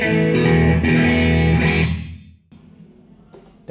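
Electric guitar played through a UAFX Golden Reverberator pedal with reverb engaged: sustained chords ring loud for about two seconds, then decay into a soft reverb tail, with a fresh strum starting right at the end.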